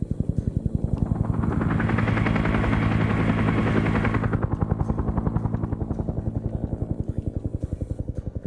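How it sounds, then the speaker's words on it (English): A helicopter in a Vietnam War combat video game passes overhead, its rotor chopping in a fast steady beat that swells loud and close, then thins out as it moves away. "Have that chopper fly over to go check things out"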